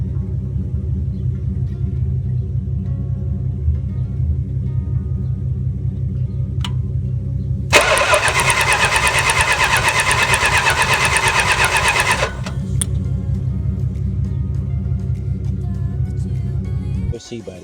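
A 1978 Chrysler Newport with a 6.6-liter V8 idles with a loud, deep, steady rumble. Partway through, a harsh broadband roar cuts in for several seconds and then drops away, leaving the low idle rumbling on.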